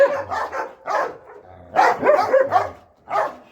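A dog barks during training in a series of sharp, close barks in irregular bursts, some with a whimpering edge, loud and clear with no talk over them.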